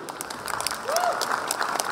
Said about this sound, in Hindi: एक बार मैं जोरदार तालियां चाहूंगा